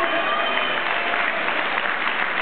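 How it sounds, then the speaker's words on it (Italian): An audience at a live dance performance gives a steady, dense round of clapping that holds at an even level throughout, with no speech on top. "mentre prendono i loro meritati applausi"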